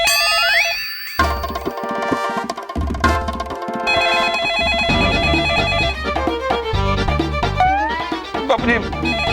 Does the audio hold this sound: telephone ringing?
yes